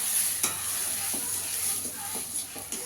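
Ridge gourd paste frying with onion and garlic in a pan, a steady close hiss with several short stirring scrapes of a spatula spread across it, no talking.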